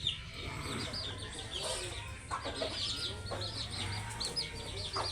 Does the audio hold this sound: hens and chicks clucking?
yes